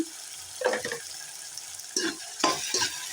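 Tomatoes and onions sauté with salt in a pan for an oil-based brinjal curry, a soft background sizzle punctuated by a few quick scraping stirs of the spoon.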